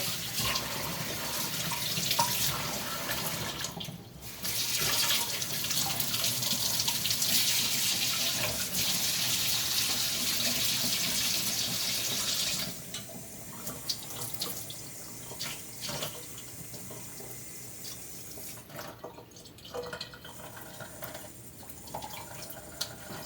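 Hot water pours steadily from a kitchen tap, a loud continuous splashing stream that later turns thinner and more broken, with scattered clinks, heard alone while baking chocolate chip cookies.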